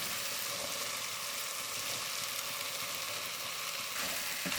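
Chickpeas fry in a pan with softened green chilies and pepper, a soft, steady sizzle that holds evenly and quietly throughout with a slight stir near the end, and no voices.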